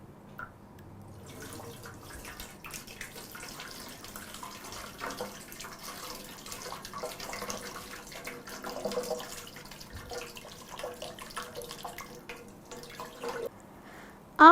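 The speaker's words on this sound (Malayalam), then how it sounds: "ഞാൻ ഈ കുപ്പിയിലെ വെള്ളം മുഴുവൻ ഇതിലേക്ക് ഒഴിക്കാൻ പോവുകയാണ്." Water from a whole bottle being poured into a container, a long, soft trickling and splashing stream that runs steadily for several seconds before a sharp clunk at the end, no talking.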